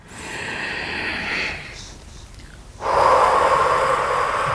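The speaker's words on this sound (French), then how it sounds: "Grande respiration, 12 fois." Slow, deep breaths, a long inhale swelling then easing off, a pause, then a strong, broad exhale, close to the microphone with no talking.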